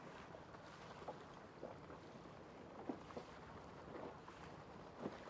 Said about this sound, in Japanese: この若浦、7メーターの風が吹いています